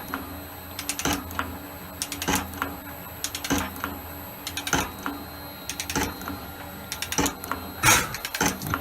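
An Elliot 10M metal shaper cutting at maximum feed gives a steady run of sharp, evenly spaced clacks about once a second over a constant mechanical hum, loud and close, with no talking.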